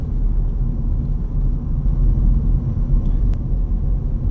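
A 2011 Ford Focus Edge rolls over bumpy roads, giving a steady, loud low rumble of road and cabin noise throughout, with an occasional faint knock and no talking.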